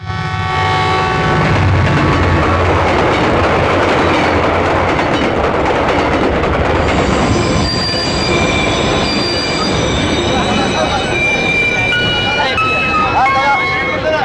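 The Darjeeling Mail train rumbles loud and close with persistent squealing wheels and clattering carriages, the high metallic screech rising strongly in the second half, while voices can be heard beneath the noise.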